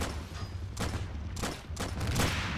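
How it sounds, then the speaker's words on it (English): Mortar shelling and gunfire in Army Men: Plastic Wars come as a steady crackle of distant shots punctuated by several sharp blasts, dense and continuous over a couple of seconds. "the Reds have, they're just getting shelled to oblivion by the mortar that they have back here"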